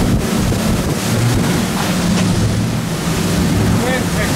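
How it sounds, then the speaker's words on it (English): Strong wind buffets a fishing boat out at sea, a loud continuous roar with rumbling low noise and wave wash throughout. "Wind picked up a little bit."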